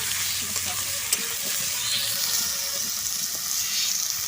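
Bottle gourd pieces hiss and sizzle steadily in a hot pan with green chillies while being stirred, a continuous close frying noise with light scraping throughout.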